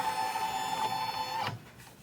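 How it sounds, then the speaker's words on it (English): A home sewing machine runs steadily for about a second and a half with a continuous whirring drone, then stops abruptly, leaving a quieter hum. "I'm going to have to do part of this on my sewing machine"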